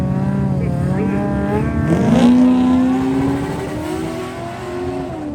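A turbocharged drag car launches down the strip, its engine note climbing sharply into a loud rising whine midway and then holding a strained high pitch as it pulls away. No voices are heard.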